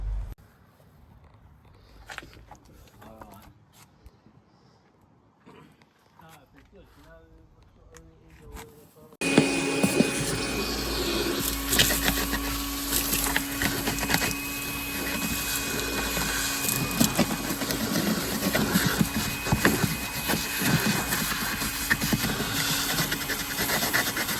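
Screws being undone on a Peugeot Partner van seat: quiet clicks and handling noises at first, then a powered driver whirs loudly and continuously in the back half, close up, with faint talk early on.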